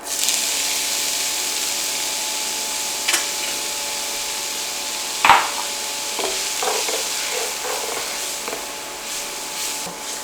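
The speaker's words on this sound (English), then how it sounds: "We're going to let our skillet, should be good and hot already. I'm going to go ahead and add those in." Diced onions hit a hot skillet, giving a steady broadband hiss throughout with a low background hum and one sharp clatter partway through.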